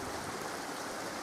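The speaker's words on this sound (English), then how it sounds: "So you can hear the bird song and the trickling of the water" Water trickles and rushes along a woodland stream in Ebbor Gorge in the East Mendips, a brief steady burble heard quite faintly and alone.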